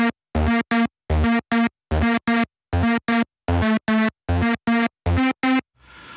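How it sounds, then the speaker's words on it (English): Squashed mono synth lead from a Studiologic Sledge synthesiser plays a trance-style melody in short, evenly spaced, buzzy stabs with a bright, compressed tone, alone and close, ending in a brief soft noisy tail. "lead sound on a mono synth that sounds a bit like this"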